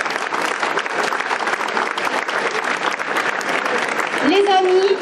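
Audience at a chocolate fair in Moissac applauds volunteers, a dense, continuous wash of clapping from a crowd, with a voice briefly rising over it near the end.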